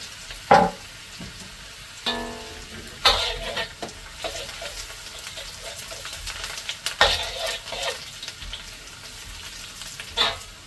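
Garlic frying in a home kitchen pan, a steady oily sizzle broken by sharp stirring bursts, with a few louder spurts near the start, middle and end. No one talks.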